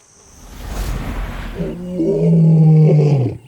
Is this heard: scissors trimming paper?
no